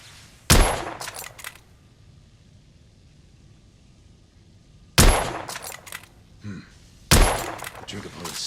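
Three separate loud gunshots from The Order: 1886, each a sharp crack with a short ringing tail and echo, spaced apart over a quiet low background.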